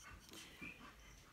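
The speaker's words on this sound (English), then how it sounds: "sorry about that, that's my dog." A dog pants softly up close and lets out one brief whimper midway, all at low volume with no talking.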